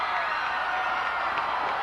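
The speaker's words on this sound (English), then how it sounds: "it's too loud for Miss Fytch, I think, to even attempt to speak over this loud crowd here in Freedom Hall" A loud crowd roars at a Smoky Mountain Wrestling show in Freedom Hall, a dense, steady wall of cheering and yelling that fills the arena without a break.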